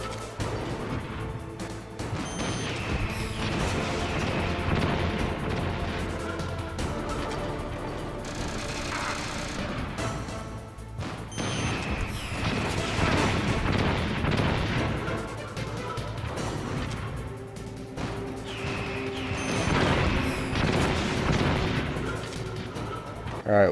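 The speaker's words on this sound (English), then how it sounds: "I can't remember how to dodge these damn missiles." Missile blasts in Metal Gear Solid rumble and crash again and again over a dense, loud backdrop of game music and action, continuing throughout with heavy booming impacts.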